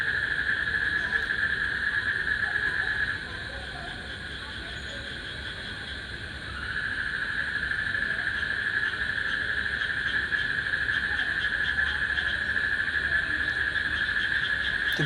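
A mole cricket (turulla) trilling from underground, a loud continuous high-pitched buzz that drops away briefly and then resumes, with faint rural background noise.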